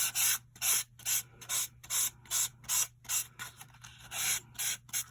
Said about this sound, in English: Just give it a light sand.